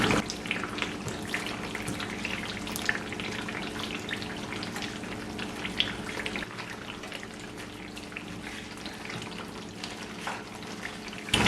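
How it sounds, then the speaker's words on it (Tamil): Coconut milk curds stirred and pressed with a ladle in a pan while cooking down for coconut oil, a continuous crackling bubbly frying hiss with scattered soft scrapes, steady and close, no speech. "இந்த பால் கட்டியை நல்லா இப்படி கரண்டியால் அமர்த்தி அமர்த்தி இது கிண்டிடுங்க."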